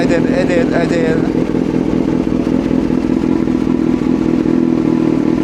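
A Yamaha NMAX 155 scooter fitted with a Vmax Onyx open muffler idles steadily and loudly up close, a constant low engine drone with clattery texture, while a person talks over it at the start.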